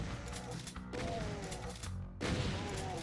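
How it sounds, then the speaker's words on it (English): Video game explosions boom and crackle in dense, continuous bursts, with heavier blasts around the middle and near the end. "Explosions."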